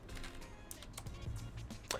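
Computer keyboard keys clicked in a short, irregular series of sharp taps at moderate volume, with no voices, during setup of Fusion 360 software.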